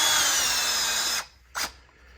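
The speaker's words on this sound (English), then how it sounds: "I'm drilling out where my wires have to go." A power drill bores a hole for wiring, running loud and steady for over a second before stopping, then a short second burst follows.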